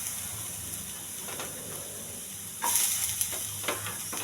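Ginger, curry leaves and onions with green chillies fry in a pan for quinoa upma, a steady sizzle with stirring scrapes that grows louder and brighter about midway through, with no talking.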